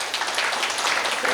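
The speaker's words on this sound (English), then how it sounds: "please give them a big round of applause for them" Broad, steady applause from a conference audience at an institute chapter launching ceremony, a dense wash of clapping sustained at even loudness throughout, with no voices over it.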